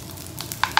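Rice with salted fish and mustard greens stir-fries in olive oil, a soft steady sizzle with two sharp scraping strokes of a utensil near the end.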